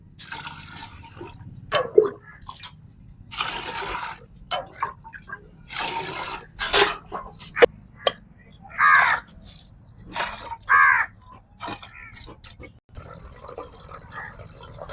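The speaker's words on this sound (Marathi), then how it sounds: "डाळ धुवून घेतली मस्त चकचक 2-3 पाण्यानं" Toor dal being washed in water in a vessel: intermittent splashes, swishing and drips in short bursts with quiet gaps between them, fairly close.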